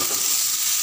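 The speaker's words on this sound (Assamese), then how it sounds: "এইখিনি গন্ধ নোযোৱালৈকে ঢাকন মাৰি আৰু অলপ সময় মই ভাজি ল'ম" Spice paste of ginger, garlic and dried chilli frying in a pan for an Assamese chicken curry, a steady, bright close-up sizzle and hiss with no talking.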